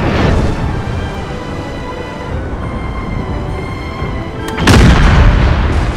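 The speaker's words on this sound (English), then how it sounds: "Make that thing explode." A ship exploding and burning in a Total War: Empire naval battle, a dense roaring rumble with a loud deep boom bursting in near the end, no voices.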